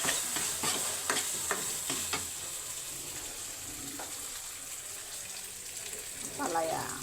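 Bitter gourd with ground meat and tomato is stirred in a pan, with soft scraping strokes and a faint sizzle, quiet and close, and a brief voice near the end.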